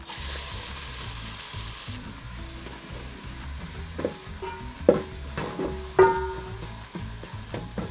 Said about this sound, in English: The first thing to put in are your carrots.